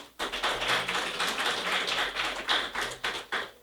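Seminar audience clapping for presenters, a brisk patter of hand claps with uneven bursts and a few louder accents, fairly close and steady.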